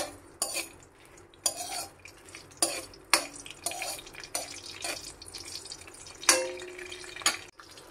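Dried and fresh chillies with mustard seeds fried and stirred in a pan for amla pickle: repeated scraping and clinking of a utensil against the pan at an uneven rhythm, with soft sizzling beneath, close and moderately loud.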